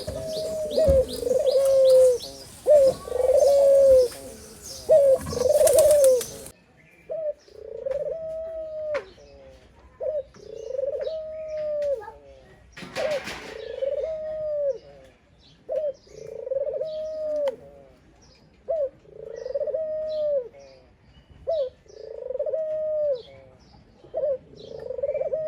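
A white dove once paired with a pigeon calls repeatedly at pigeons, giving about a dozen evenly spaced, mid-pitched coos that are loud and close, with busier chirping and fluttering in the first few seconds.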